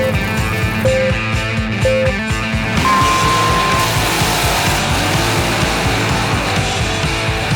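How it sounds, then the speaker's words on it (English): Race cars running at a busy drag strip during the Buick GS Nationals, engines droning and revving loudly throughout with tonal whines, a continuous near-to-mid-distance mechanical roar. "Racing already started. You could hear it going in the background."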